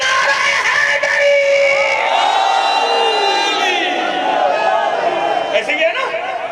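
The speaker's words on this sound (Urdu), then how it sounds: "اس نعرے کا نام ہے نعرہ حیدری" A large crowd loudly chants the religious slogan Nara-e-Haidari in unison at an Eid-e-Ghadeer celebration, with sustained, rising massed voices that fill the whole stretch.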